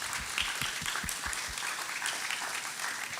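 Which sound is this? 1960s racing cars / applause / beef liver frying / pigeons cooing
applause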